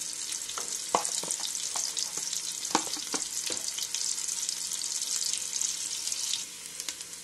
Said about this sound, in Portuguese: vou estar colocando a nossa carne de galo saborosa para dourar